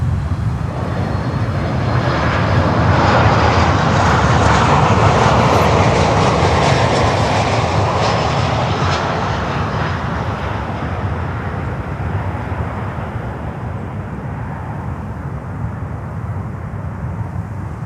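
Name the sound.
Copa Airlines airliner from Panama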